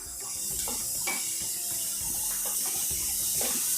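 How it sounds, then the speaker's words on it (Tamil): Water runs from a tap or is poured into a cooking pan while making lemon coriander soup, a steady splashing rush that holds from start to finish with no talk over it. "இதில் இப்போது தண்ணி விட்டுடலாம்."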